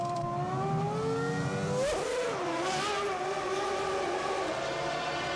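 A Formula 1 car at the 2000 Japanese Grand Prix roars steadily, then its engine note dips sharply as it enters the pit lane and settles into a lower, loud, continuous drone with no talk.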